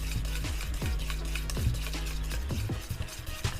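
Butter, eggs and oil being beaten together for plum cake batter, a continuous rhythmic whisking and scraping in a bowl, close and steady with repeated stroke accents.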